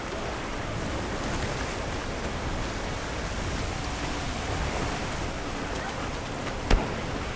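Heavy downpour in Monster Hunter Wilds, a steady broadband hiss of rain that holds evenly throughout, with one short sharp crack near the end.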